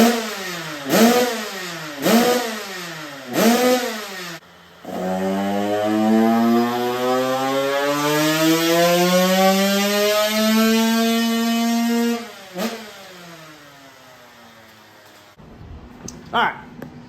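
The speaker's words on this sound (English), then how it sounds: "dyno run done and dusted" A Husky Supermini motorcycle on a dyno blips its engine in several sharp revs, then holds one long climbing pull that screams up to high revs before cutting off and falling back to a low idle, loud and close.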